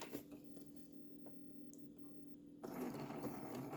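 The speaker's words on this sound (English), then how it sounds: "I'm going to stitch down and reverse back all the way, and then come forward one more time." Sewing machine stitching through a quilt, a steady mechanical whirr that runs on continuously and grows louder and busier toward the end.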